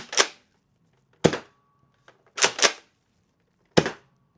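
Nerf Loadout toy blaster with no accessories attached fires four sharp, close pops in an uneven rhythm, the third a quick double shot, with faint mechanical clicks between shots.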